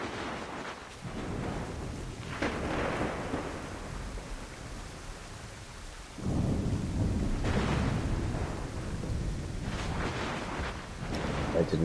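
A thunderstorm in the video game Assassin's Creed 3, with heavy rolling thunder and steady rain that swells in loud waves over about twelve seconds, while a player speaks now and then.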